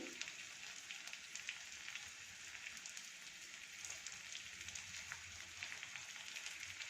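Steady, even sizzling of garlic, chilies and curry leaves frying in hot oil, a continuous crackle with no talking.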